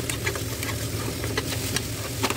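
Onions fry in a pan with oil. The sizzle is steady, close and fairly soft, with light crackles and no talking.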